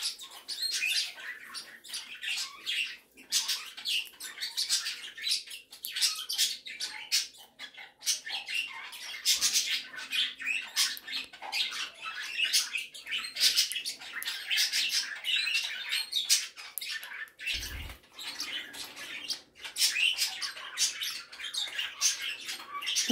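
Pet birds in an indoor bird room chirp and squawk almost nonstop, a dense overlapping chatter of sharp calls and tweets at close range, with no talking.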